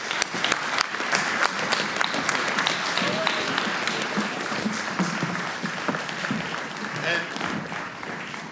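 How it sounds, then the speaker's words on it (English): Audience at an anti-scam summit closing gives sustained, dense applause from a large crowd in a hall, with a voice briefly audible near the start. "Please give them a warm applause."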